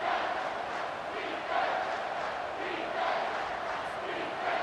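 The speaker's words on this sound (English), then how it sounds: "the noise from this crowd on 3rd and 4" Dense, steady roar of a stadium crowd during a College Football 25 video game matchup between Colorado and Kansas State on a third down, loud and continuous with gentle swells, no clear talk on top.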